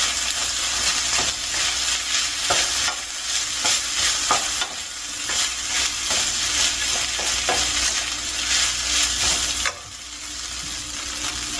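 Wheat bread mixture with homemade kimchi being stirred in a bowl, a steady scraping and squelching that continues throughout with occasional sharper clicks, close and fairly loud with no talking.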